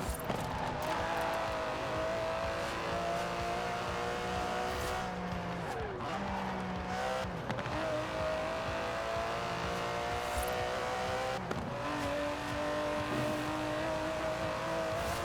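An Aston Martin DB11 with a 5.2-litre twin-turbo V12 in the racing game Forza Horizon 4 revs and accelerates through repeated gear changes, with tire squeal and a continuous engine drone at a moderate level.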